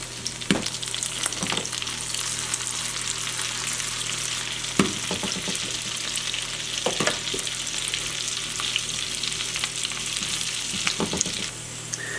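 Potato pancakes fry in melted butter in a pan, giving a steady, close crackling sizzle with a few sharper pops and scrapes throughout.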